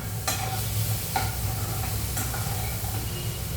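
Garlic, shallots and chili flakes fry with spinach for a palak-style curry, giving a steady close sizzle with occasional sharp clicks from stirring and no voices.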